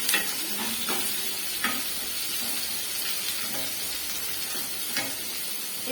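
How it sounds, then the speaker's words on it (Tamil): Onions sauté in a pan for a Tamil poondu kulambu and kathavarangai poriyal meal, giving a steady close sizzle and hiss of frying. A few soft stirring scrapes come through, and no one talks. "வெங்காயம் வதக்கிக்கலாம்."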